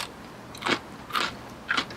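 Three crisp, crunchy bites into a raw Tindora, a perennial cucumber freshly harvested from a home garden, each snap close and loud with short pauses between.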